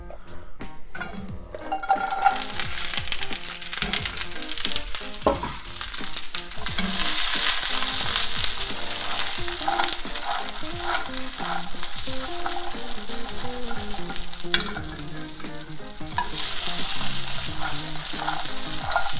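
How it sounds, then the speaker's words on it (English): Greens sautéing in smoking-hot olive oil in a pan, a loud steady sizzle and crackle that flares as they hit the oil and stays strong throughout, with occasional stirring clatter and no talk. "If you're using olive oil, you can tell it's ready to saute anything because you'll start to see smoke coming up from the pan."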